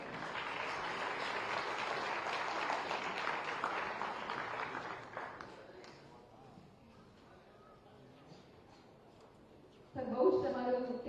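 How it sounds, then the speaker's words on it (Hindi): A summit audience at Narayani Heights bursts into loud applause for the chief minister, a dense clapping wash lasting about five seconds before dying away into room murmur, then a voice speaks. "जोरदार तालियां हो जाए।"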